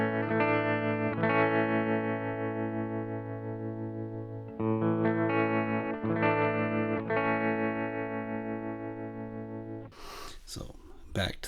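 An electric guitar runs through a MayFly Terrain Deluxe pedal with triangle-wave modulation, sustained chords pulsing and wobbling steadily, with a fresh strum partway through and a brief burst of voice at the end.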